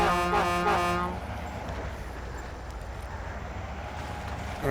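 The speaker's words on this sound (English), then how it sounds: "If you're feeling lonely and want some noise, you can always honk the horn." A truck horn in the off-road driving game Mud Runner sounds in one loud, brassy blast of about a second, then fades into the low rumble of the heavy truck's engine.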